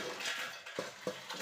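Dried red chillies rattle inside a large mixer grinder jar while curry leaf powder is being made: a faint, light clatter with a couple of sharper clinks, close by and quiet, with no voices.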